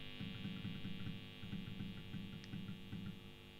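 Single-coil guitar pickups put out a low mains hum with a faint pulsing throb, heavily reduced by noise-reduction processing on a BOSS ME-90 multi-effects unit with a boost pedal engaged, steady and quiet throughout.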